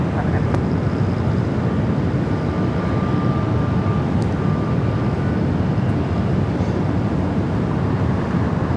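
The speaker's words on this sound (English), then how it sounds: "Delta Airlines flight 427 coming in from Honolulu." Delta Airlines Heavy airliner landing at LAX, arriving from Honolulu: a loud, continuous broadband jet roar with a faint steady whine, mixed with wind buffeting on the microphone.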